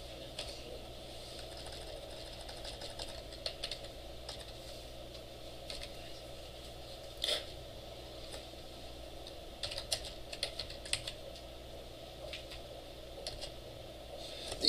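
Typing on a computer keyboard during a web database programming class, a steady run of soft, close key clicks with a few louder bursts over a constant low room hum, no talking.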